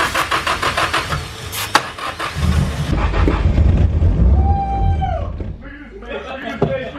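A car engine cranks and catches in a garage, rhythmic starter pulses giving way to a rough rumbling idle, loud and near, with people talking over it and a short whine partway through.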